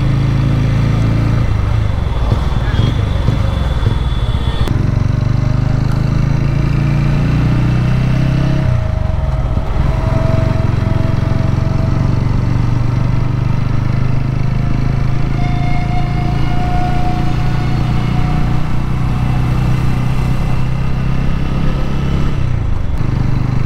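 A 2024 TVS Ronin 225 motorcycle rides along, its engine humming steadily and loud close to the recorder for the full stretch, with wind rush and occasional shifts in engine pitch.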